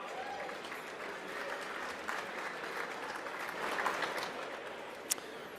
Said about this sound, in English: Round of applause for our musicians tonight